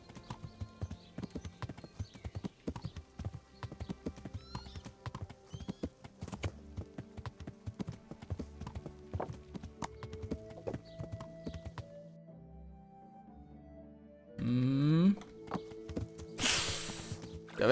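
Horse hooves clip-clopping while riding in the medieval game Kingdom Come: Deliverance, with steady hoofbeats and an occasional whinny, later giving way to quieter tones and a brief louder burst near the end.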